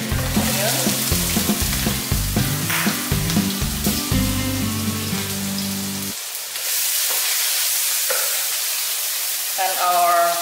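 Chopped garlic and half-sliced red onion go into hot cooking oil for squid adobo. A busy, rumbling stretch with knocks gives way to a bright, even sizzle that fills the second half.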